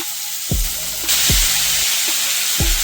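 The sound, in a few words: chicken pieces frying in hot oil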